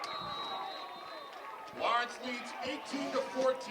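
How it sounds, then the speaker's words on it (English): Crowd at a high school football game in Lawrence roars after a go-ahead touchdown, a swell of cheering and whoops rising midway over a steady murmur of spectators. "And the crowd erupts here in Lawrence."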